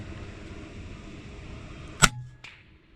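A $5,000 airgun fires a slug at a starling perched on a power line in a field: one sharp, loud crack, followed about half a second later by a softer, fainter knock, then quiet.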